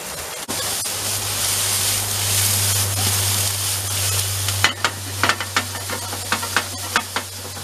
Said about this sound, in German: Ein bisschen Öl rein. Dann gehen wir unser Gemüse.